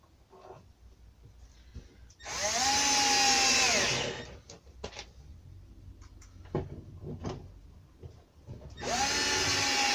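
A power drill fitted with a slightly thicker bit bores screw holes in an oak door, giving two loud, close whirring bursts of about two seconds each with knocks and handling thuds between them.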